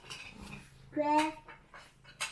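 A small dog whimpers and pants close by in a home, brief soft sounds mixed with a voice speaking.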